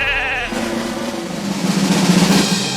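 Sheep bleat in a pasture, a few wavering calls that carry clearly over a light outdoor background.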